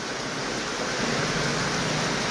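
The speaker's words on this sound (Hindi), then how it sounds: "ये जो बारिश की आवाज़ होती है" Heavy rain falling in Jammu, a dense, continuous hiss of downpour at steady loudness throughout, with no voices.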